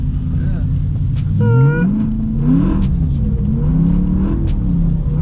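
A BMW E92 M3 engine with loud exhaust revs and drones with rising and falling pitch while drifting in the rain, people talking loudly over it.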